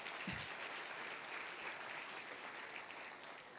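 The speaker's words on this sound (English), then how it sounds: "Round of applause for that" A conference audience applauds, a faint, even patter of many hands clapping that carries on for a few seconds at a distance.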